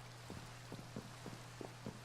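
Rain falls in a video game, a faint steady wash broken by soft, evenly spaced drip taps.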